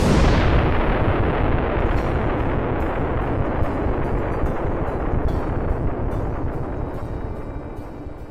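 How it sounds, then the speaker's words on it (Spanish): A loud explosion in city streets bursts out at once, then rolls into a long, deep rumbling reverberation that slowly decays over about eight seconds, with no voices. "una fuerte explosión reverberó en las calles de la ciudad."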